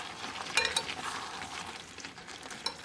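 Creamy chicken pasta sauce bubbles and sizzles in a pan over medium-low gas while a utensil stirs it, giving a steady close simmer with a few brief scraping clicks and no talking.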